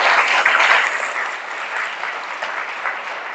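An audience at a talk on the Bhagavad Gita bursts into sustained, dense applause that is loudest at the start and then settles into a steady wash of many hands clapping, with no voices over it.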